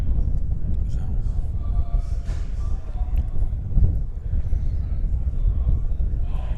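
Strong wind buffets the microphone at an outdoor football match in Charlottetown, a steady low rumble with gusty surges that persists throughout and swells near the middle.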